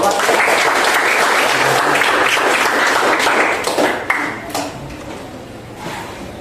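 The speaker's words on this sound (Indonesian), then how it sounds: "Tepuk tangan dulu untuk" Classroom applause for a student group called up to present at a high school, loud sustained clapping from many students that tapers off after about four seconds.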